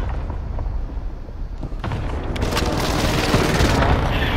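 Allied precision airstrike explosions thunder through a video game battlefield, a continuous deep rumble that swells into heavier, louder crackling blasts partway through, with no voices over it.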